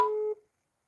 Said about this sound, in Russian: Давай еще раз наберем.